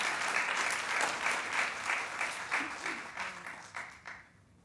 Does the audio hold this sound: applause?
yes